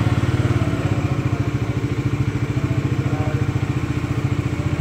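A Bajaj Dominar 400 motorcycle engine idles steadily with a fast, even rhythmic thrum and light mechanical clatter, loud and close, running alone without voices.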